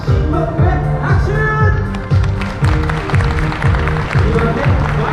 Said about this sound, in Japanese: まずは最初の新国へ拍手。